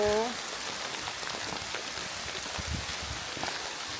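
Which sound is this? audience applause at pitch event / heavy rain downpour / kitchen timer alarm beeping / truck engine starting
heavy rain downpour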